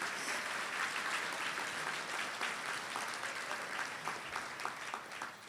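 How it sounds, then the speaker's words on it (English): Sustained applause from an audience at a charity fundraising event, steady and fairly full for the whole stretch, with scattered sharper claps standing out toward the end. "How about a round of applause for all of our partner sponsors?"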